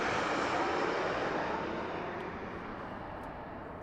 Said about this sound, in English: we have a Southwest flight trying to sneak in on us over here